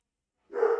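Dog barking, a single short bark arriving abruptly after silence, fairly close and alone.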